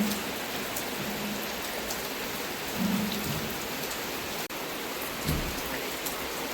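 Steady rain falling outdoors on a wet day in a flooded village, a dense, even hiss of drops at moderate level throughout with no talk.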